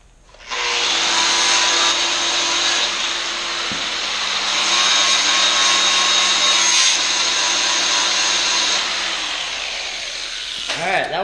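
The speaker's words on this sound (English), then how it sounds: "I do have a 40 grit sanding flap disc" Loud, steady abrasive grinding of a Toyota 4Runner front bumper with a 40-grit sanding flap disc on a grinder, running about ten seconds with a continuous whine, easing off at the end.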